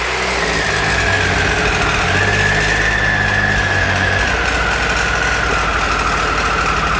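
Triumph Tiger 800XC motorcycle engine idling with a slight miss and a suspected failing sprag clutch, a steady close mechanical hum with a faint uneven beat and a thin high whine running throughout.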